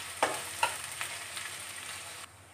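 Chopped onion frying in hot oil makes a soft continuous sizzle, with two quick stirring scrapes near the start, fairly quiet and close, before the sound cuts off abruptly; no one speaks.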